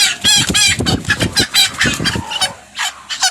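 Black Cochin chickens cluck and squawk close by in a busy, overlapping burst, calls rising and falling in rapid succession before thinning out at the end.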